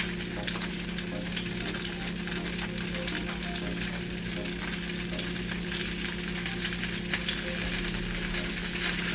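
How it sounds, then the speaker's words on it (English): Flour stirred into sizzling butter for a vegetarian gravy, with onions, vegetable broth and mushrooms in the pan, gives a steady loud frying hiss under scraping and stirring that runs continuously and close. "next I'm gonna add 1/3 cup of flour to my butter mix for my gravy"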